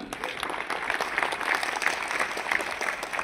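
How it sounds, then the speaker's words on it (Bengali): An audience at a Tiens company business seminar claps loudly for an honoured older woman, a sustained, crowded patter of many hands that holds steady throughout. "মাসিমার জন্য জোরে হাততালি"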